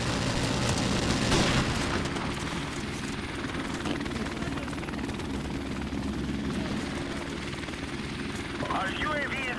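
A helicopter in Call of Duty: Modern Warfare Remastered during a custom match, its rotor thumping loudly and continuously among explosions and gunfire, while a player talks over the noise.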